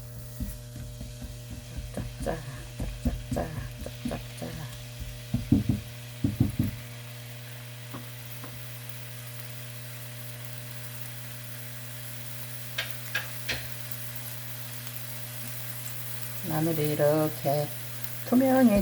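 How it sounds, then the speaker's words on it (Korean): Garlic sautés in hot oil as the base for a Korean soft tofu stew, giving a soft sizzle with bursts of utensil scraping and clatter against the pan, then a quieter stretch before stirring picks up again. "이렇게 마늘을 넣어 그래가지고 볶아"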